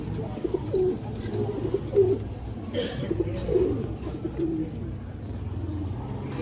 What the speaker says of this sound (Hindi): ये सारे कबूतर है